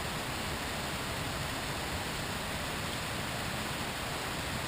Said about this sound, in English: It has that waterfall in the background.